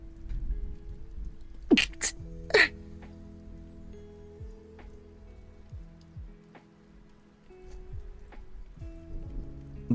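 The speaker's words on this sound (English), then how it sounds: "Yeah, I'm getting sneeze attacks." A person sneezes twice in quick succession, sharp nearby bursts over a quiet indoor room hum during a relaxed coding session.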